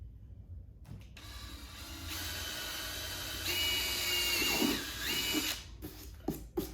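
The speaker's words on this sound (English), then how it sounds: "the drill bit I'm using is a 13/64" Power drill boring holes with a 13/64 bit while installing an audio upgrade kit on a 2018+ BMW K1600B motorcycle; a steady whirring drill runs for several seconds, rising in pitch and loudness midway, with no talk.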